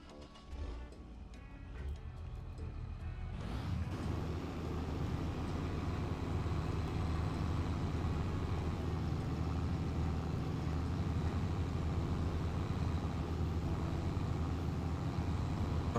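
Tractor engine droning steadily in the video game Farming Simulator 22, a dense continuous rumble that swells in after a few seconds and holds loud and even to the end, with no talk.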